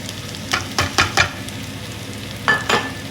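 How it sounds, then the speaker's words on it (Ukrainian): Sizzling and frying in a pan with a few sharp scraping stirs, close up, no voices. "Поки смажиться фарш"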